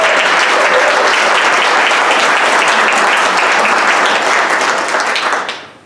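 Sustained audience applause at an ACLU award event, a dense crowd of clapping hands at steady volume for several seconds before fading out quickly at the end.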